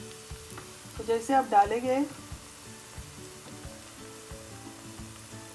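Okra (bhindi) tipped into hot oil for a fry, giving a steady close sizzle with a few light stirring knocks, while a voice talks briefly over the start.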